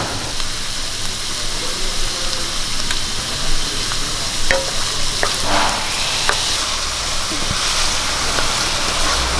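Onions sizzle steadily in a hot pan for a potato curry, a continuous bright frying hiss with occasional light clicks and stirring scrapes, close and fairly loud, no talking.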